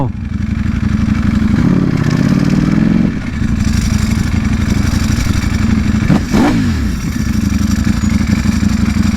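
A 2020 Ducati Panigale V4R with an Akrapovic race exhaust roars while being ridden, its loud, steady engine drone rising briefly in a rev before settling again, with wind rush throughout.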